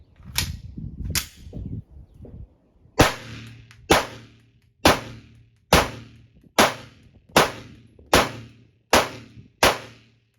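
Shots from a Canik TP9 SF Elite 9mm pistol firing lighter handloaded ammunition at a range: two sharp cracks, a short pause, then eight more evenly spaced loud reports about one second apart, each ringing briefly before the next.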